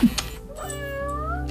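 A robotic toy cat meows once in a drawn-out, rising-then-falling tone, close and clear, preceded by a short thump.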